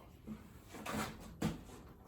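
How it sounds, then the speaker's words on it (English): A hollow core door being rehung swings open with a couple of soft wooden knocks and a brief rattle, close by and fairly quiet, with no talking. "We can open the door now."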